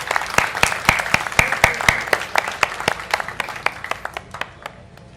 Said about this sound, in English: Can we please have another quick round of applause as they leave the stage?